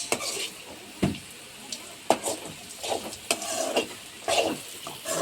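Beetroot chutney ingredients being sautéed in a pan, with soft sizzling and several sharp scrapes and clinks of a spoon against the pan at irregular intervals, close by and fairly quiet, with no talking.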